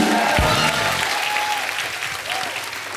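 Studio audience applauding loudly and steadily on a Kapil Sharma Show set, a dense sustained wash of clapping with some cheering and a voice over it that gradually thins.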